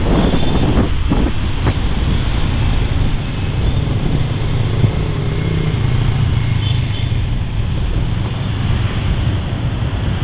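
Strong wind buffets the microphone outdoors on a cold day in Quy Nhon, a steady loud roaring rush with gusty low rumble throughout, no voices.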